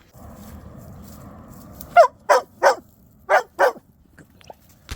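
A dog barks a greeting in five loud, close barks spaced across a couple of seconds, following a steady low hum, with no talking.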